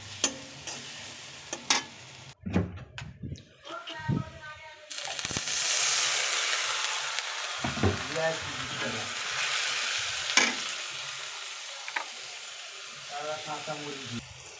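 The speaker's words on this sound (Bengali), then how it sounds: "সব মশলা দিয়ে দিয়েছি এখানে, এখন একটু কষাই নেব" Spices sautéing in a pan with beans, potato and fish, giving a steady sizzle and intermittent stirring clatter. Someone speaks at intervals over the frying.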